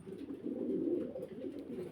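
A male Lahore breed pigeon coos in a low, throaty, continuous rolling murmur, close and fairly steady, swelling slightly in the middle before easing off, with no voices.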